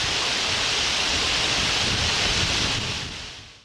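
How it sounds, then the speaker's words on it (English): Hunt Pot beck, a Yorkshire moorland stream, pouring into a shallow pothole depression: a loud, close, continuous broadband rush of falling water that fades at the end, with no voices. "here we see Hunt Pot beck falling into the shallow depression"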